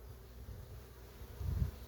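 A low, steady buzzing of many honeybees hums close by at the hive, swelling briefly louder near the end.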